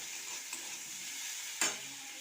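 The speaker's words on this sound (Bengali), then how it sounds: "আর এইদিকে দেখুন আলু আর বেগুনটাও ভাজা ভাজা হয়ে গেছে।" Potatoes and eggplant fry in a pan, a gentle steady sizzle close by, broken by a brief scrape or stir near the end.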